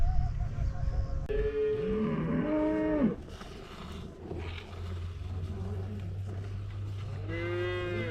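A cow being milked in the Democratic Republic of Congo gives two loud, drawn-out moos, one long call early and another near the end, over a steady low hum with quieter stretches between.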